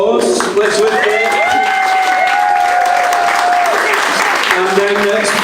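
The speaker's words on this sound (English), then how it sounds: "I want to give you a big round of applause." An audience at the Hangout gives a loud, sustained round of applause, dense clapping that fills the room throughout, with whoops and voices rising over it.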